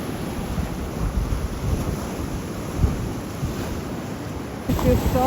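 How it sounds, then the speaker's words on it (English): Rough ocean surf breaks at a rocky surfing beach in Rincón, Puerto Rico, as a broad, continuous roar of waves mixed with wind buffeting the microphone, with a faint shift near the end. "The ocean is rough."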